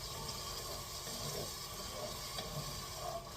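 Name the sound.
wine cooking down in a pot on high heat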